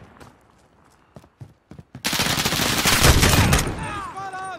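Gunfire in the video game Call of Duty Modern Warfare, with a few sharp isolated shots at first, then a dense loud burst of rapid automatic fire lasting a couple of seconds before it tails off.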